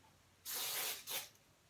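Two quick hisses from a hairspray can, close by, the first longer than the second, in an otherwise quiet room.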